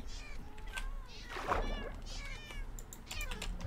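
A Minecraft cat meows several times in short, rising calls over a low background hum, with soft clicks of keys tapping between the cries.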